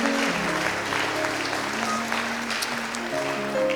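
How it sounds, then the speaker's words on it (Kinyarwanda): Congregation applauding at the close of a church service led by a pastor, a steady dense wash of clapping sustained throughout with faint sustained musical tones underneath and no clear talk. "Tuguhaye amashi menshi impundu."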